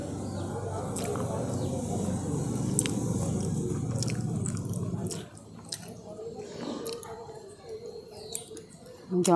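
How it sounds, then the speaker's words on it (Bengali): Someone bites into a homemade tomato-sauce-topped snack and chews it close to the mic, crisp bites and soft mastication under a low background hum, ending in quieter chewing. "আপনাদেরকে একটা খেয়ে দেখাই যে কীরকম হয়েছে"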